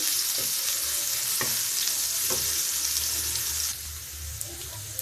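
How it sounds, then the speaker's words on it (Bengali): Onions fry in hot oil in a pan, giving a steady close sizzle throughout with a few stirring scrapes; the sizzle drops slightly toward the end, with no talking. "এবার এটাকে কিছু পেঁয়াজটাকে একটু ভেজে নিতে হবে"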